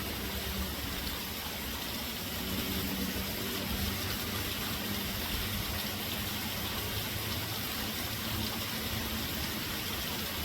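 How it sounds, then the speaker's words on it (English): A small waterfall beside a parking lot along the Appalachian Trail gives off a steady, continuous rushing hiss at moderate level, unbroken and without any voices. "Got a nice little waterfall out here."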